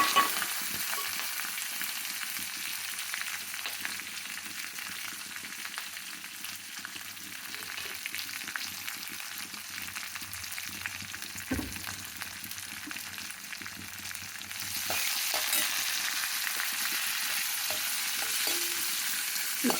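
Green chilies frying in oil in a pan for moong dal sambar, giving a steady, close sizzle with occasional stirring scrapes, growing slightly louder toward the end, no talking.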